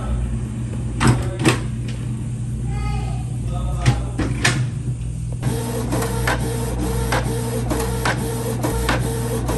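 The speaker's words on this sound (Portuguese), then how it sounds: "Vou imprimir aqui." A printer printing an image at home: steady mechanical whirring and rolling with rhythmic clacks and feed pulses that grow busier partway through, close and fairly loud.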